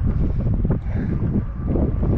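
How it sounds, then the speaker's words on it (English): Wind blowing over open cold water during winter crappie fishing, a steady, loud low rumble buffeting the microphone that dips briefly and then returns, with no talking. "Wind's picked up."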